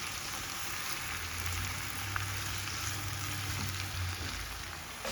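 Seasoned vegetables for ackee and saltfish cook in a skillet, making a soft continuous sizzle and crackle at a low, even level with a faint low hum underneath and no voices.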